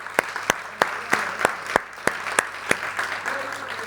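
Audience applause for fathers at a Father's Day talk: a run of sharp, evenly spaced claps at a steady rhythm, fairly close, fading into a softer patter near the end.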